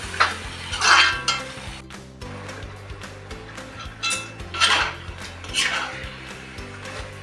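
Mutton frying in a pan of curd-based curry over a low gas flame, with a soft sizzle under repeated scraping and clinking of a metal spoon against the pan, and a faint low hum behind it.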